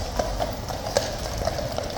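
Horse hooves clip-clopping on pavement at Horse Guards in London during a runaway horse incident, a series of irregular, fairly close hoof strikes over steady background noise.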